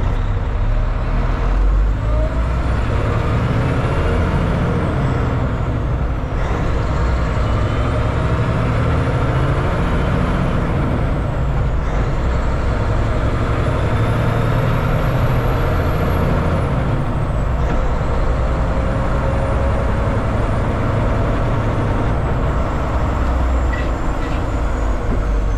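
A truck engine runs with its Jake brake engaged, making a loud, continuous close rumble with repeated whining rises that cut off every few seconds as the truck shifts through the gears.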